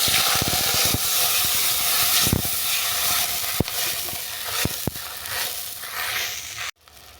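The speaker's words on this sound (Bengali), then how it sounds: "এরপর আমি জল দিয়ে দেবো।" Water poured into a hot kadai of mustard oil, dried red chillies and fried five-spice tempering erupts in a loud, steady steaming hiss and sizzle with scattered crackles and pops, then cuts off abruptly near the end.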